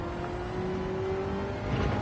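A V12 car engine in Gran Turismo 5 hums steadily with a sustained tonal drone, then revs up briefly near the end, moderately loud with no talking.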